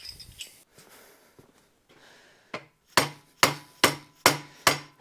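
Sharp hammer taps on a part of a Dodge W200 truck's Magnum 5.9L engine while the accessory drive is being removed: six loud, evenly spaced metallic strikes close by, each ringing briefly, following some quieter fumbling.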